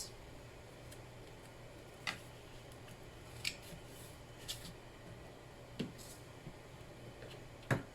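Scissors snip card stock at an angle to miter the corners of a Halloween paper-craft folio, giving about six sharp, close clicks spaced irregularly over a quiet room background.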